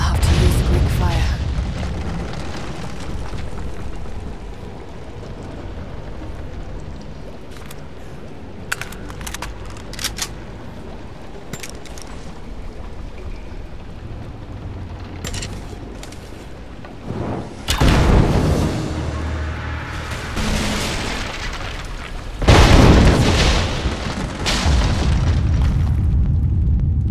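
Booming explosions from fire arrows striking the unstable supports of a statue in Rise of the Tomb Raider, two loud bursts late on over a rumbling game soundscape with scattered sharper impacts.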